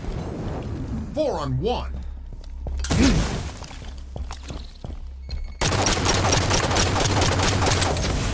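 Gunfire in Halo 5 Guardians Breakout mode comes in scattered bursts and then a dense, sustained volley of rapid shots near the end, loud and close, with a voice calling out over it.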